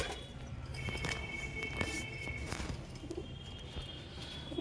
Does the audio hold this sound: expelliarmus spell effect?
no